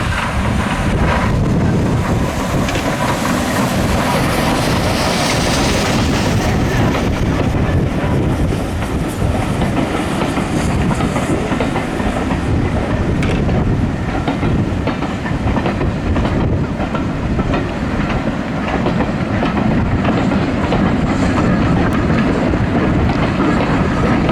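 A heritage train on the Great Central Railway, class 1744 working top and tail with 78019, rolls steadily through Quorn and Woodhouse station, a loud continuous rumble of wheels and coaches with heavy wind buffeting the microphone throughout.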